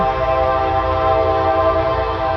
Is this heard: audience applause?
no